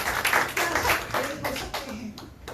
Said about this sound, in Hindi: हालेलुया, खुदा के लिए ताली हो जाएगी।